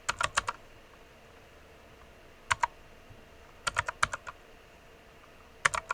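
Keys clatter on a computer keyboard as the ipconfig command is typed, in short separate bursts of quick clicks with quiet gaps between them.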